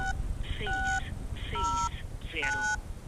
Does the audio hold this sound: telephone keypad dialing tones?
yes